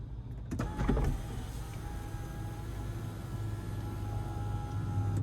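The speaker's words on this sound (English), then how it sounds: "slide the sunroof back. So I'll show you a one-touch slide here." Sunroof of a 2026 GMC Canyon AT4 sliding open in one touch, a quiet steady electric motor whir with a soft click at the start, heard close inside the cabin.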